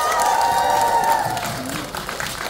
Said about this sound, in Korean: 배우님들께 뜨거운 박수 한번 부탁드리겠습니다.